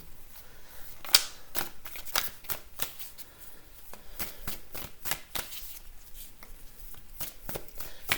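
Tarot cards are handled and shuffled up close, giving a soft, irregular series of quick papery flicks and riffles at low volume.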